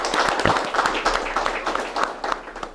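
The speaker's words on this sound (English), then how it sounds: "I think he deserves a clap" Audience clapping for a goalkeeper at an interview event in Bangladesh, a fairly loud mix of scattered claps with voices and chatter running through it, the claps uneven rather than steady.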